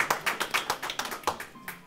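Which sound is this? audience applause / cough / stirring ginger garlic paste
audience applause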